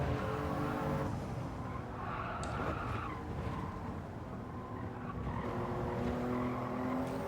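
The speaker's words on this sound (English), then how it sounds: "When the car slides off the brake, you have to instantly minimize the steering." Race car in a racing video game sliding and skidding with sustained tire squeal over a loud engine drone, steady and close throughout.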